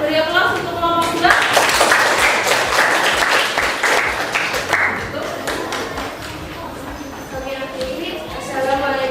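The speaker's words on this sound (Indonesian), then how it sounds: "Beri aplaus untuk kelompok 2." Classroom of students giving a round of applause for a group, a burst of dense clapping that swells for several seconds and then fades, with a teacher's voice before and after.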